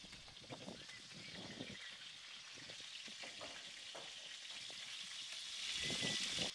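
Steady sizzling of Barbary duck legs searing in a hot pan over gas, a continuous crackling hiss that swells slightly louder toward the end.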